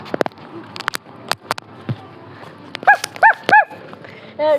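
A dog barks close by in a series of sharp, separate barks, spaced unevenly and growing into louder, longer yelps toward the end, with scattered clicks and bumps between them.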